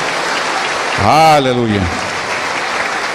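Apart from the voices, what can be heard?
church congregation applause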